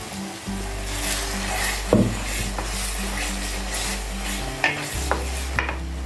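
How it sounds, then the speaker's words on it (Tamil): Moringa greens masala paste for an egg curry sautéing and being stirred in a pan, a steady close sizzle with scraping stirs and a few clinks of the spoon against the pan. "கீரை மசாலையெல்லாம் சேர்ந்து நல்லா வதங்கணும்"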